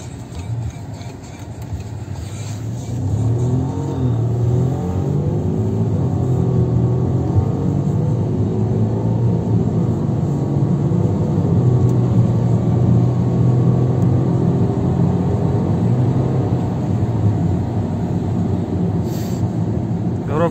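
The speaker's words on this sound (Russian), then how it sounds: "Коробка отлично переключается, ни затягиваний, ни шумов посторонних нету." A 2007 Audi A3 2.0 with automatic transmission accelerating through its gears, a steady loud engine drone rising and dropping in pitch as it shifts, heard from inside the car without talk.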